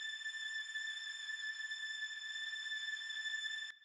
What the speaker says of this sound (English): this is just a string plugin playing a really high A,